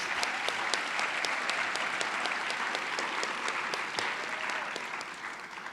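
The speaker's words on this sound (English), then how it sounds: "Round of applause for these amazing people." A room full of people applauds faculty and staff at a Latina graduation celebration, with steady, moderately distant clapping and a few sharp individual claps standing out. The clapping slowly thins toward the end.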